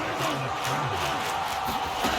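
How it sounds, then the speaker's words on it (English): Stadium crowd in Madden NFL 23 roaring steadily ahead of a big third down, a dense continuous wash of cheering with faint voices rising through it, no commentary over it. "the crowd getting into it as we come up on a big 3rd down"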